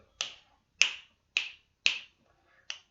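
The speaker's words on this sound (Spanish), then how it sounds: "Puedo hacer como un chasquido." Five crisp finger snaps, close and loud, spaced about half a second apart with brief ringing decay and silence between them, no talking.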